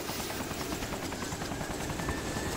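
A helicopter in the video game DayZ Origins, an Arma 2 mod, drones loudly and steadily with dense rotor chop throughout, close and filling the whole scene with no talk.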